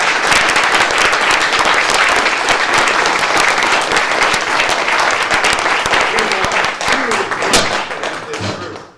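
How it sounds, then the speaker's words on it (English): A room full of people at a property owners' association special board meeting gives the candidates a round of applause, dense sharp clapping that runs steadily for several seconds before tapering off at the end. "Let's give them all a round of applause."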